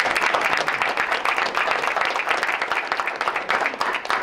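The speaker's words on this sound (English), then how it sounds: "let's give Tom and John a round of applause" A school board meeting audience gives a sustained round of applause, dense overlapping clapping from many people, steady and moderately loud for several seconds.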